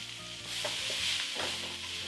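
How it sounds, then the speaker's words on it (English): Garlic, cumin, turmeric and chili powder sautéing in hot oil, a soft steady sizzle with a few stirring scrapes close by. "quickly saute all these"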